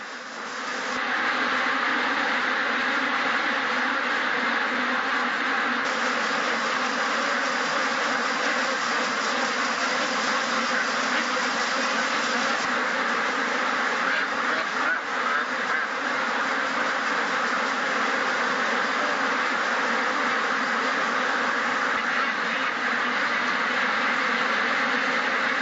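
Ducks quacking in a crowded intensive farm shed, a dense continuous din of many birds at once, loud and steady throughout with no voices.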